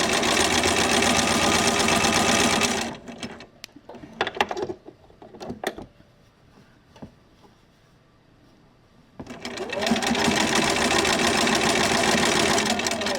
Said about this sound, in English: So I'm just gonna keep right on sewing, making certain that my pieces are lined up.